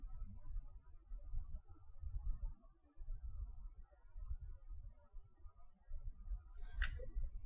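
Soft, steady clicking of typing on a computer keyboard, close and quiet, with continuous light keystrokes through the whole stretch and no talk.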